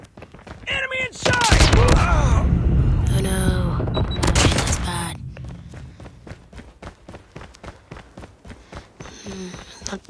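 Call of Duty gunfire bursts loudly in a heavy volley with booming impacts, then gives way to quicker, quieter repeated shots and running footsteps, with a voice speaking over the game action.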